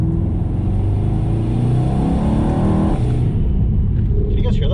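A Mercedes E63 with an M177 V8 and CTS turbo intakes revs, giving a deep rumbling engine roar, with speech heard alongside it.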